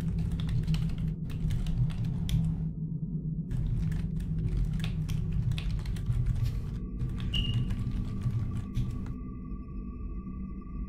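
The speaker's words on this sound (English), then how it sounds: "Mechanical keyboards." Rapid keystrokes on a mechanical keyboard come in bursts, close and fairly loud, with short pauses and a low hum running underneath.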